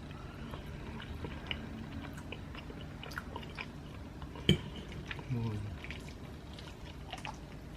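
Someone eats steak fettuccine at a taste test, with soft chewing and faint clinks of cutlery close up under a low background hum, plus one brief sharper knock partway through.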